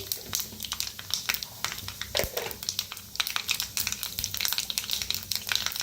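Cumin and mustard seeds sizzle and pop in hot mustard oil, a crackling spatter of sharp pops over a steady frying hiss, busy and close, with no speech.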